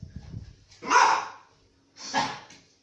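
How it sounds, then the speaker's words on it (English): Dogs bark in two loud, close bursts, each about half a second long and separated by a short pause, with faint rustling before the first bark. "there's dogs here"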